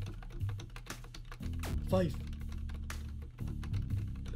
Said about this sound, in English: I'm just spamming the keys.